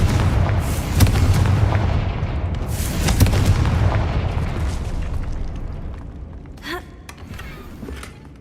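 Confringo fire spells bursting in the Hogwarts Legacy video game: several loud booming explosions in a row, each with a rumbling tail, followed by sharper crackling bursts near the end.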